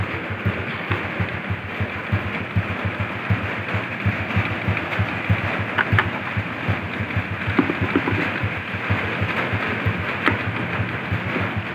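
Honda Kharisma motorcycle engine idling low, a close, steady, rapid throbbing putter that holds even for the whole stretch with a few faint clicks over it.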